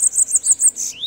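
A bananaquit, kept in a cage, gives a quick run of bright, high chirps, close and loud, in a rapid pulsing series of about five notes ending in a rising tweet.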